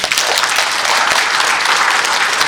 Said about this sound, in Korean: 다시 한번 발제해 주신 정성원 박사님한테 박수 한번 드립니다